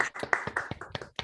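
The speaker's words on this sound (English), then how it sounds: "So we should clap." An audience at a talk claps for about a second, a quick run of close, uneven hand claps with no speech over it.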